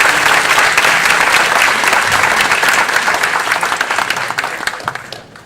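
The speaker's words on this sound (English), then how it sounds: "So, round of applause for our panel so far." Loud audience applause for a panel at an Alpha Phi Alpha MLK forum in Orlando, sustained close clapping from a sizeable crowd that gradually thins out toward the end.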